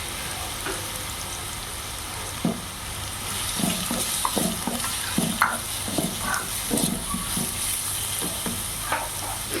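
Cabbage sizzles steadily in a hot pan as vegetable stuffing for wheat flour puffs, with scattered stirring clatters and scrapes rising over the constant frying hiss.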